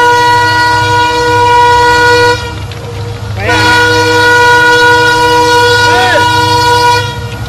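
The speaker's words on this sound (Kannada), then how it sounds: "ಯಾವುದೋ ಟ್ರೈನ್ ಬಂತು" A train rolls past near the Dudhsagar line, a loud continuous rumble with a sustained horn blaring twice, and people talk over it.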